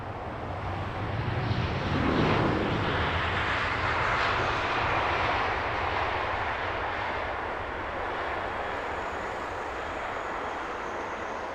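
British Airways Airbus A319 airliner arriving to land at Heathrow, its engine roar swelling to a loud peak early on, then a steady broad rumble and whine that lingers as it passes, with no talk.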